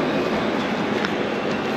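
A Delhi metro train rumbles past close by, a loud, steady roar with a faint high squeal near the middle and no pauses.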